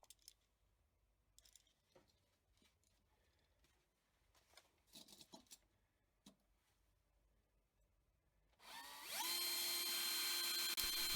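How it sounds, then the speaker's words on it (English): A small drill bores out the rivets on a Matchbox No.28 Jaguar Mk 10 die-cast model, a steady loud whine starting late after quiet handling clicks and lasting to the end. "So let's first drill out the rivets."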